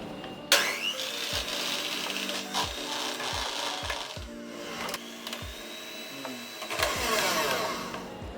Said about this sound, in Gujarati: પાવડર સુગર નાખીશું અને 30 ગ્રામ મેંદો નાખીશું. એને આપણે બીટરથી બીટ કરી નાખીશું.